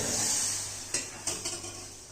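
Spiced rice pulao stirred in a pot after cumin, red chilli, coriander and asafoetida go in, giving a steady sizzle with a few soft scraping knocks of the spoon against the pot, close and fairly quiet.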